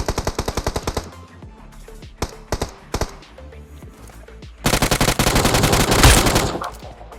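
Automatic rifle fire in BGMI PUBG Mobile, a rapid burst of shots, then scattered single shots and short pairs, then a longer louder sustained burst, close and sharp.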